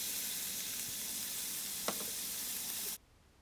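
Ingredients fry in coconut oil with a steady, close hiss that runs unbroken for about three seconds, marked by one brief scrape near the middle, before the sound cuts off abruptly.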